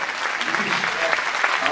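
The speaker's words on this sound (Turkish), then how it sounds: "Bu alkışlar biraz da Selma Hanım için gitsin" An audience applauds steadily at a Turkish stage show, a dense, continuous clatter of clapping.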